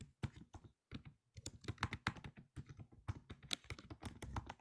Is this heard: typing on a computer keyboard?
yes